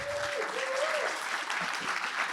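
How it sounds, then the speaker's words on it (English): An audience at a Texas hemp business panel applauds the panel crew in a steady, dense burst of clapping with no pauses, with a faint tone drifting at the start. "If you guys could give this amazing crew up here a round of applause"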